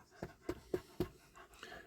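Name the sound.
dog panting in the heat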